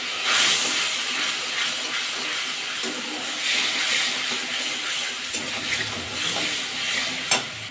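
Spice paste hits hot mustard oil already crackling with a dried red chilli and nigella seeds, giving a loud, continuous sizzle and hiss that swells and eases in waves, with a brief sharp pop near the end.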